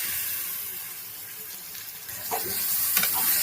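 Chopped tomatoes hit hot oil with ginger paste in a pan for a tomato egg curry, giving a steady broadband sizzle with a few louder stirring clatters near the end, close and continuous.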